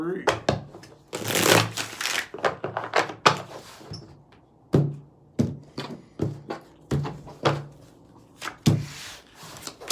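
Tarot cards shuffled by hand in three rounds, sharp riffling bursts and soft thumps of the deck close up, with pauses between.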